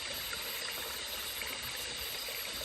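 Water flows steadily in a forest stream during the rainy season, a continuous soft rushing and trickling that stays even and fairly quiet throughout.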